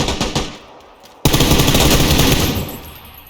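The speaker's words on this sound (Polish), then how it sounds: "Rzeczywiście ten karabinek to ścierwo. pięć headów, a on dalej strzela." Carbine fire in PlayerUnknown's Battlegrounds: a few quick shots, a short pause, then a loud burst of rapid automatic gunfire that rings out and fades over about two seconds.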